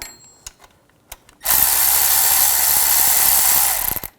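Ratchet wrench backing a bolt out of the alternator on a 2006-2010 BMW 550i, a few faint clicks first and then a loud, steady buzzing run of about two and a half seconds that stops abruptly, close by with no talk.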